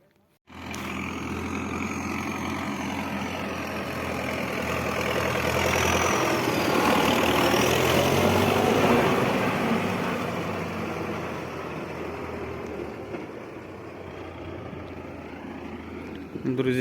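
A 2019 Kioti tractor with a turbocharged engine of about 90 to 95 horsepower idles steadily and close by, a continuous mid-pitched rumble that swells slightly midway and then settles.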